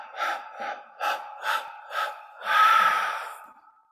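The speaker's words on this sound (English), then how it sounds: "and then you exhale through the mouth." A person breathes during a breathing exercise: five short, airy breaths in a steady rhythm, then a longer, louder exhale through the mouth that fades away, close and clear with no talking.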